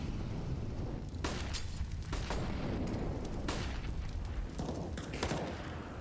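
A grenade blast and scattered gunshots in a PUBG esports match, with several sharp bursts spread over steady background game noise, fairly quiet overall.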